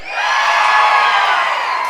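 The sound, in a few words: crowd of people screaming together on count of three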